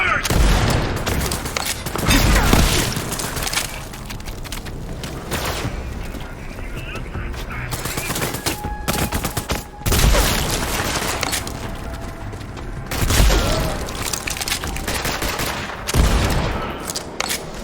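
Rapid bursts of automatic gunfire and booming weapon blasts from the video game Borderlands 3, loud and repeated across the whole stretch, with brief mechanical clanks between volleys.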